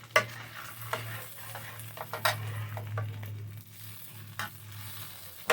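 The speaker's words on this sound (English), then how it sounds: "I'm still trying to cook his 2 pieces of bacon and his eggs." Bacon and eggs frying in a pan on a stovetop turned up high, with a steady low sizzle, a few sharp utensil scrapes and clinks against the pan, and no talking.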